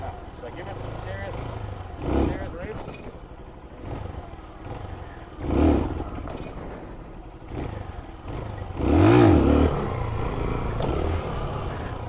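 A motorcycle engine revs hard as the rider lifts the front wheel into a wheelie, with several surging throttle bursts rising and falling over steady engine drone, under a voice giving instructions.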